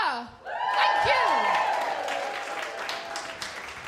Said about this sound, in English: so please keep that applause going for Sikisa!